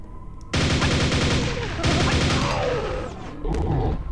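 Rapid bursts of gunfire as enemies shoot each other in Quake's Scourge of Armagon expansion, loud rattling volleys in two long stretches with a brief pause and a final burst.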